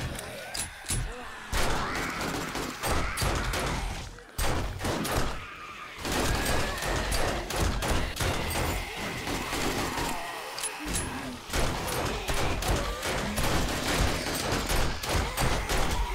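Rapid bursts of gunfire aimed at zombies in the video game 7 Days To Die, Alpha 20, during a horde attack, loud and dense with brief gaps, repeated volleys across the whole stretch and occasional crashes mixed in.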